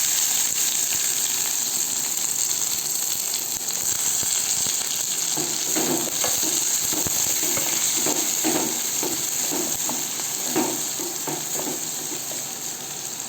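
Chopped small onions sautéing in a pan for an ivy gourd fry, a steady close sizzle with soft stirring scrapes across the middle, and no voices.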